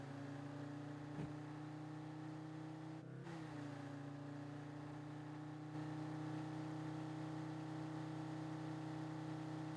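A diesel car engine in the driving game Drive Beyond Horizons idles and runs at a steady low hum, with a brief shift in pitch partway through, fairly quiet and continuous with no talk.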